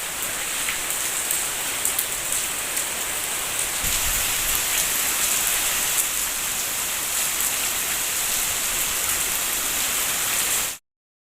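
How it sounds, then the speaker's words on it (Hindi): Heavy winter rain pours down outdoors with strong wind, a dense, loud, unbroken hiss of drops that holds steady for about eleven seconds before cutting off sharply. "बारिश भी कितनी तेज़ हो रही है, हल्की भी नहीं हो रही"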